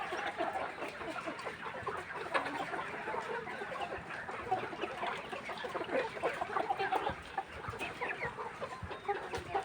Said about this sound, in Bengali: সবগুলো মুরগি খাবার খাচ্ছে